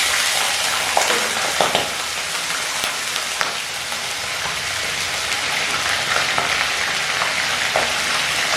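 A splash of water hits a hot pan of whole cumin seeds and a slit green chilli, producing a loud, steady hiss and crackle like rain that continues throughout.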